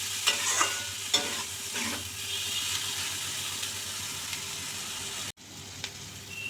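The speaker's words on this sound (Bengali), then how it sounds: "দিয়ে সর্ষের তেল দিয়ে ভালো করে ভেজে নিচ্ছি" Carrot and cauliflower fry in mustard oil with cumin and nigella seeds, a steady close sizzle with a few spoon stirs and scrapes early on, briefly cutting out before resuming.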